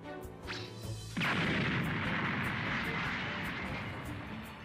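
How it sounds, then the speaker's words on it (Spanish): Fireworks explode in the Dragon Ball Z: Kakarot video game, a sudden booming burst that rolls into a sustained, crackling rumble over layered game music and effects. "¿Qué fuegos artificiales más feos?"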